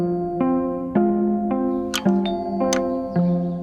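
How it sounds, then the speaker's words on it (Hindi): A doorbell chimes in a run of repeated two-tone ding-dong notes, close and clear, with sharp clicks scattered between the tones. "और उसी वक्त दरवाजे पर घंटी बजी।"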